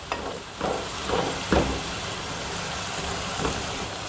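Ingredients for a spicy potato gravy sizzle and fry steadily in a pan, a soft continuous crackle with a few stirring scrapes, no voices.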